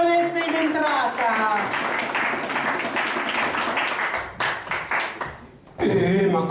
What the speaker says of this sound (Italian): Un applauso alla baronessa in entrata.